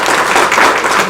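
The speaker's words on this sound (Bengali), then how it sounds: "কিন্তু তার জন্য একটা হাততালি হবে।" Audience applause at a postal employees' welfare association education event in Barasat, heard as a dense, steady wash of many hands clapping with no gaps.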